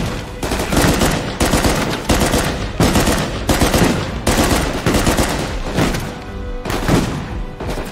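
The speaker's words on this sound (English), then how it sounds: "I like this burst fire, man." Repeated gunfire bursts from a burst-fire weapon in Uncharted 4, loud and dense, with about ten evenly spaced volleys of sharp shots booming over continuous combat noise.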